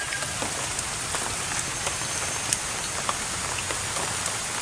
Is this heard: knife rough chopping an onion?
no